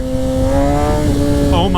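A 2017 Kawasaki ZX10R sportbike pulling hard in first gear, its engine note climbing steadily in pitch under loud wind rush, with a rider's voice over it.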